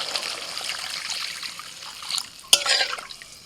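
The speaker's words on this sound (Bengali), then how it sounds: "এবার দিয়ে দিচ্ছি জল।" Water is poured into a pan of mustard paste fried with spices for a fish curry, making a soft trickling splash that builds toward the end, with a sharp hiss-and-splash burst partway through.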